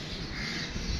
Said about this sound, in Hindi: तो कौवों ने शोर डाला हुआ है।